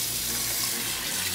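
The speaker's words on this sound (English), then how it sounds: "So just wash it with water." Oxtail being rinsed under a running kitchen tap, a steady, close and fairly loud rush of water pouring into a sink without a break and with no talking.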